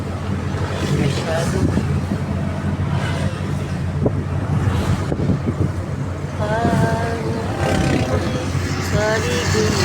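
Wind buffets the microphone outdoors near a hospital, a constant low rumbling roar with gusty swells that runs the whole time under a person talking.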